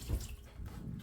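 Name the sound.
boiling water poured from kettle onto cheese press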